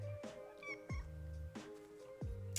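A house cat called Kitty meows several times in close succession, each call sliding downward, loud and near, with no talk over it.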